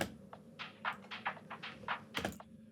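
A dance pop music loop passed through high cut and low cut filters, sounding muffled and underwater: soft, dull rhythmic pulses repeating evenly at low volume, with a brighter burst near the end.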